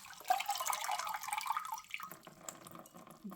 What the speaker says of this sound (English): Just going to move so you can see this whilst I pour all the water in